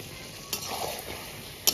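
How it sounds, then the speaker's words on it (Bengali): Meat being sautéed and stirred in a pan, with a faint, steady sizzle and a couple of soft spatula scrapes and clinks against the metal. "মাংসটা প্রায় কষানো হয়ে গেছে"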